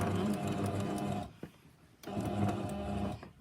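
A sewing machine stitching binding onto the edge of a quilt runs in two steady bursts of close, loud mechanical whirring with a short pause between them.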